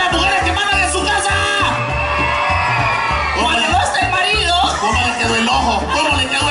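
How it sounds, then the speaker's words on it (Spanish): A loud crowd at a live concert in Ciudad Arce, El Salvador, shouts and whoops together over pounding music, voices rising in a sustained, energetic roar. "¡Grito fuerte las mujeres que mandan en su casa!"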